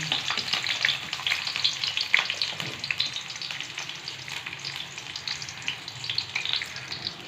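Onion and garlic frying in hot oil for a pork and vegetable binagoongan, a steady close crackling sizzle with stirring scrapes throughout, no talking.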